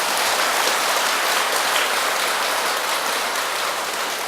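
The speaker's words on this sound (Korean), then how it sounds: "우리 그 노보살님한테 박수 한번 주시오." A congregation at a Buddhist Baekjung prayer service applauds an elderly laywoman, giving a continuous, even wash of crowd clapping that sounds almost like rain and holds at a constant level throughout.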